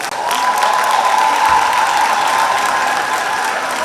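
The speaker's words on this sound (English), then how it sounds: "Graduates, can you give yourselves a hand of applause?" Graduates at a college graduation and diploma ceremony clap for themselves, a loud, steady wash of crowd applause filling the hall without a break.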